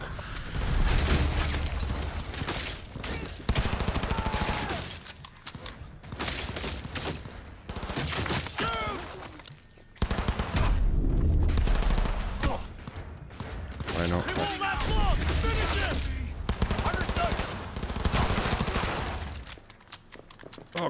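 Heavy gunfire fills a Cyberpunk 2077 firefight, repeated fusillades of automatic shots in rapid bursts with brief pauses, while in-game voices shout over the shooting.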